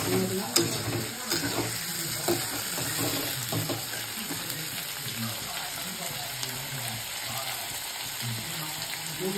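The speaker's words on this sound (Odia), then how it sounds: "କଖାରୁ ବାଇଗଣକୁ ଟିକେ ଭାଜିବା ଲୁଣ ପକେଇ" Pumpkin and eggplant frying in a pan with salt, a steady close sizzle with occasional scraping and stirring clinks throughout.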